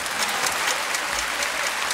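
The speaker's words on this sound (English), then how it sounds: "And applause are in order." Dense, even applause from an audience for a contestant at a fan battle contest, loud and continuous with no talking over it.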